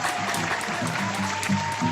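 A live audience at a comedy show applauds, dense steady clapping with a murmur of crowd noise beneath, filling the whole moment at moderate volume.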